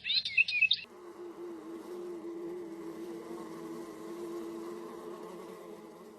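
Insects buzz in a steady, continuous low drone throughout, after a short burst of bird chirping at the start.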